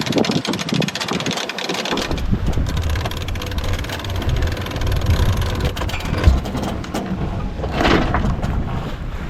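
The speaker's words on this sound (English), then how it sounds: "super stoked the engine's about to go off." A sailboat's engine runs steadily at sea, a continuous low rumble mixed with wind buffeting the microphone and some water noise, close and fairly loud throughout.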